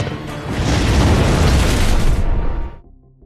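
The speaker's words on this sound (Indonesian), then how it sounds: "Kelompok Lin melihat ledakan di Alcatraz," A single loud explosion at Alcatraz erupts, a deep rumbling blast that sustains for a couple of seconds before quickly fading away.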